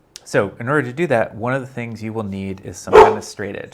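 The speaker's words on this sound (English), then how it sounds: "That's my dog" A dog gives a single short, loud bark in a room while a man keeps lecturing, the bark cutting briefly through his speech.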